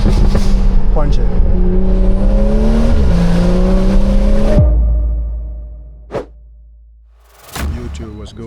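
A tuned Stage 2+ BMW 340i accelerating hard, its engine note climbing loudly through gears from inside the car before cutting off abruptly, followed by near-silence and a couple of short whooshes, with a voice heard in the cabin.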